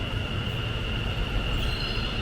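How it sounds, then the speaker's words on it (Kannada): Metro train in Ahmedabad pulling into a station platform, a steady loud rumbling roar of wheels and carriages with a faint high whine, continuous throughout with no talking. "ಸೊ ಮೆಟ್ರೋ ಹೀಗಿರುತ್ತೆ ನೋಡಿ. ಟ್ರೈನ್ ಬಂತು."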